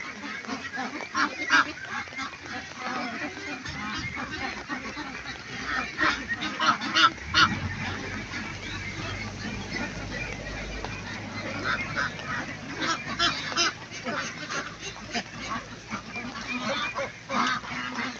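Large ducks on a big duck farm quack and honk continuously in a dense, noisy flock close by, with a low rumble of movement and wind underneath.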